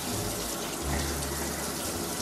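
Water runs steadily from a tap during a husky puppy's first bath, a continuous close splashing gush that stays loud and even throughout, with no talking.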